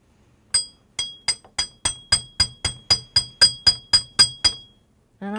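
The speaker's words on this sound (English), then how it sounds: "I forgot to hammer it before I did all this, but I can still do that." A metal jewelry ear wire is struck with a small hammer on a hard surface, about fourteen sharp, ringing metallic taps in a steady rhythm, close and clear, followed by a brief noise at the end.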